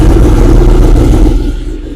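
A pre-owned sport bike fitted with an Akrapovic exhaust fires up with a loud, close burst of engine rumble that quickly settles and fades toward idle.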